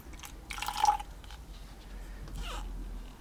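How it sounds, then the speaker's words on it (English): Water poured into a cup of acrylic house paint comes as a few faint trickling, splashing bursts with short drips between them, close and quiet. "we're going to go ahead and mix water into this"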